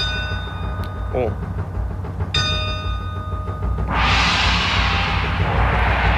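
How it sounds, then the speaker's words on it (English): A bell rings a few times over a steady low rumble, followed by a rushing hiss that swells and keeps going. "Maybe this is a church bell?"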